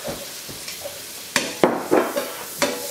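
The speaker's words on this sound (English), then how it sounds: "just fry it gently till golden brown" Chopped onion frying gently in melted butter in a pan, a steady soft sizzle with a few louder crackling bursts and spoon stirs partway through, close and alone without talk.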